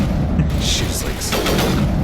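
Dense, booming gunfire in the sci-fi shooter Mass Effect, a loud continuous barrage of overlapping shots and impacts filling the whole moment, with game noise mixed in.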